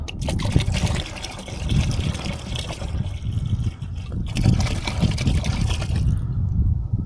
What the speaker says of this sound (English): Shake it again. Get all that goodness out of that bottle.